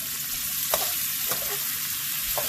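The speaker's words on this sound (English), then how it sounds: "now we're gonna add our ham, and we're gonna crank up the heat just so they could get like a deep dark color" Potatoes and ham fry over high heat in a pan, giving a loud, steady sizzle with a few sharper pops and crackles spread through it, close up and with no talking.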